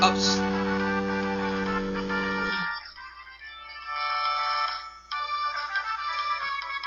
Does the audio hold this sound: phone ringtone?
yes